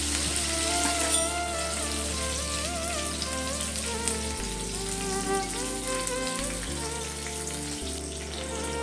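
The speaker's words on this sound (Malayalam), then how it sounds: "അടുത്ത നമുക്ക് ഇതിലേക്ക് കറിവേപ്പില ഇട്ട് കൊടുക്കാം" Curry leaves with dried chilli crackle and sizzle in hot oil for a Kerala beans thoran, a close, continuous frying hiss with spitting pops, a steady hum running underneath and no one speaking.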